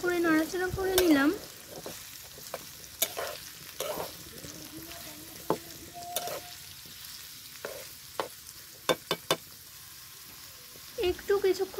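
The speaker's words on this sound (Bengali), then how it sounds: "আলুর মধ্যে পরিমাণ মতো লবণ দিয়ে দিলাম গোল গোল করে কেটে রাখা রসুন কুচি দিয়ে আবারও ভালো করে নাড়াচাড়া করে নিলাম।" Potatoes with garlic fry in a pan with a soft sizzle, while a spoon stirs them and scrapes and clacks against the pan in sharp, irregular knocks; a brief voice is heard at the start.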